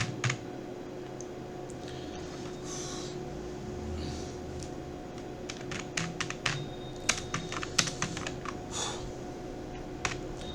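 Code is typed on a computer keyboard as a string of close, crisp key clicks, sparse at first and then denser in quick bursts over a faint steady hum, with no speech.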